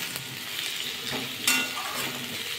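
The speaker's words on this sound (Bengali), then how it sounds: "কুমড়োগুলো দিয়ে একটু নাড়াচাড়া করে নিলাম।" Pumpkin pieces sizzle and frying steadily in a pan while being stirred, the continuous crackle close and fairly loud with a brief scrape of the stirring spoon partway through.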